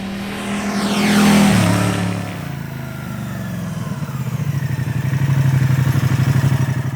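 Moto Guzzi V100 Mandello motorcycle on the move, its engine rising and then easing off before settling into a steady, throbbing mid-pitched drone with rapid pulsing, heard close and alone.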